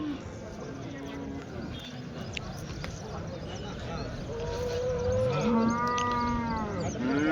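Several cattle moo in long, low drawn-out calls, one after another, over a busy outdoor background of voices and shuffling at a weekly cattle market.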